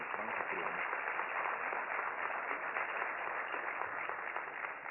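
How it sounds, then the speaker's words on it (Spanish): Audience applause for a guest at a Canacintra business event on economic zones, a steady, dense wash of clapping that holds evenly throughout at a moderate distance, with no voices rising above it. "para quien pido un fuerte aplauso."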